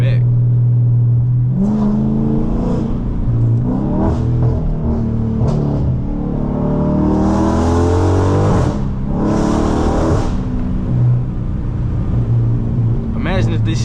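Car fitted with JBA catless midpipes and an MBRP race exhaust revving hard, loud rising and falling engine pulls with crackly blips between, heard close up with a voice talking briefly.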